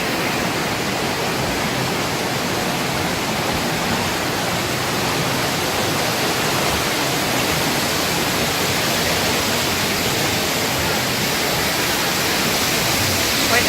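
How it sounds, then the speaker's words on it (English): A mighty waterfall at EPCOT's World Showcase roars as a constant, loud, broadband rush of falling water that holds steady for about fourteen seconds without any break. "Quite a mighty waterfall,"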